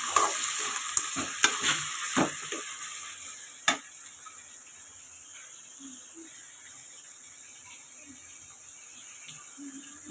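Tomatoes with salt stirred in a pan while cooking for a coconut rock-fish curry: a few sharp scraping knocks of the spoon early on, a light steady sizzle underneath, then a quieter low simmering hiss.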